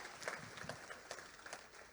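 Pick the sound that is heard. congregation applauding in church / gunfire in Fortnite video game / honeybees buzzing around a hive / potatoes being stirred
congregation applauding in church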